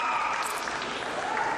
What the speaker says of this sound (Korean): 신영순 선교사와 북한의 응원단이 열띤 박수로 두 사람을 환영한다